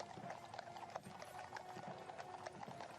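Horses' hooves clip-clop steadily in Queen Elizabeth II's funeral procession, a faint, distant rhythmic clatter with light metallic jingling over a low crowd ambience.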